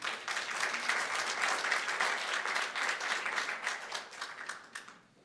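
An audience applauds a public speaker at a Kern County Board of Supervisors morning meeting, steady close clapping filling the room for about five seconds before thinning out and stopping.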